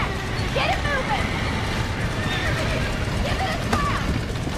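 A horse whinnies and its hooves clatter inside a burning barn in the video game Red Dead Redemption, with repeated short neighs over a steady noisy bed and voices talking.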